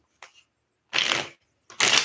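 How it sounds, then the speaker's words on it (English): Everyday Witch Tarot cards being shuffled: two brisk riffling bursts with a faint tap before them, separated by silence, close and clear, with no talking. "We are shuffling the Everyday Witch Tarot"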